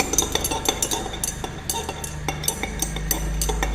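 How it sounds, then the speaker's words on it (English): Stirring syrup into a piperazine citrate elixir in a glass vessel, a quick series of light clinks and taps as the stirrer strikes the glass, close and clear, with no talk. "Then I am stirring continuously."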